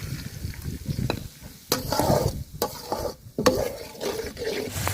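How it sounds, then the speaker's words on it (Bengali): Garlic paste frying in oil, sizzling and crackling while a utensil stirs and scrapes the pan in uneven bursts. "রসুন বাটাটা তেলের সাথে খুব সুন্দর করে ভাজা নিছি"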